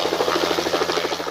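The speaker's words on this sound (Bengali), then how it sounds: "আকাশত উঠিছে নেতার হেলিকপ্টার" An election-campaign helicopter in flight, its rotor beating in a fast, steady chop over a droning engine hum, moderately loud and continuous.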